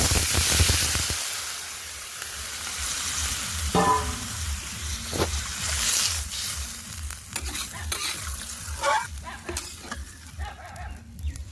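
Pre-fried potatoes being stirred into a sizzling soybean curry, with loud, continuous frying hiss and repeated scraping, clattering spoon strokes against the pan, close up and without talk.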